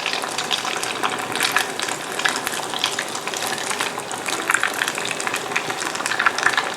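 Batter-coated Oreo cookies deep-frying in hot oil give a continuous, close crackling sizzle, dense with tiny pops and steady in loudness throughout.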